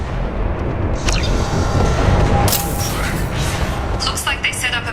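Canisters explode by a door in Mass Effect 2, with loud booming blasts and crackling debris layered over continuous rumbling combat noise, while voices talk throughout.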